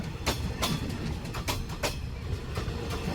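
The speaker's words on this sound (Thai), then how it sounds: "รถไฟไอขบวนนี้ยาวนะครับ" A long passenger train rolls through Bang Sue Central station in Bangkok, with steady loud rumble and a regular clickety-clack of wheels over rail joints, repeating every half second or so.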